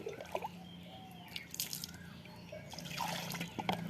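Cut pieces being washed by hand in water in a home kitchen, with soft splashing, dripping and squishing in irregular bursts, fairly quiet and close, livelier toward the end.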